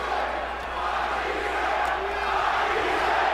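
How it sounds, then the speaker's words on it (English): Boxing crowd at the 2015 Matthysse vs Provodnikov fight, chanting Matthysse's name: a loud, sustained roar of many voices filling the arena, steady and building slightly throughout. "the crowd is chanting, Matthysse, Matthysse, Matthysse"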